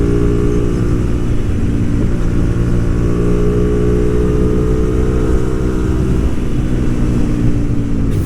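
A Hyosung GTR250R motorcycle rides a rough, uneven road, its engine droning loud and close at a steady pitch that eases slightly near the end, under constant wind rush.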